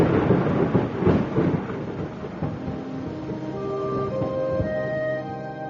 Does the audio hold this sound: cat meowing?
no